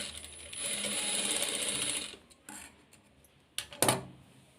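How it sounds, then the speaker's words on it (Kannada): A sewing machine stitches fabric for a top worn over jeans. It runs with a steady whirring drone for about two seconds, then stops, followed by a few sharp mechanical clunks close by, with no talking. "ಈ ಥರ ಸ್ಟಿಚ್ ಮಾಡ್ಕೋಬೇಕು."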